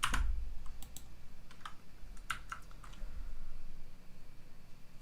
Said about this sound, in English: pressing every key on the keyboard to see if I can get that up again